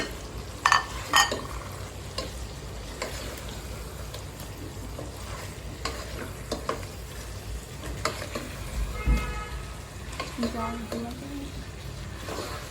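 Meat frying in a sauce in a pan, a continuous low sizzle with a few sharp clanks and scraping stirs, close by, with faint voices now and then under the cooking sound.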